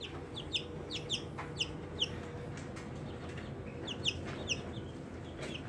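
High, thin cheeping from chicks about two to four weeks old, repeated in quick bursts over a steady low background hum.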